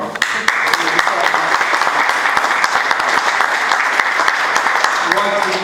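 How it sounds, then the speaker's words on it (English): A crowd applauds steadily and densely at an outdoor walking tour launch for a Cobh history event, sustained clapping throughout with a few voices mixed in. "He deserves that round of applause"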